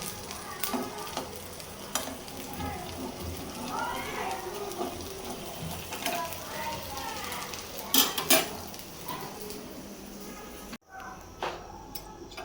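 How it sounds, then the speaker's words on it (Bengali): Eggs frying with oats in a pan as a spoon stirs and scrapes, giving a steady sizzle with scattered metallic clinks and a few sharper knocks near the end, after which the sound briefly cuts out. "আমার খাবার ওটস দিয়ে ডিম ভাজি করতেছি"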